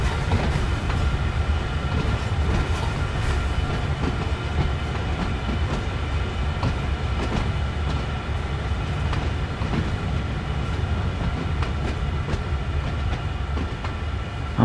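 In Train Sim World 2, a locomotive pulls wagons, rolling with a continuous rumble and rhythmic clickety-clack over the rails, steady and close throughout.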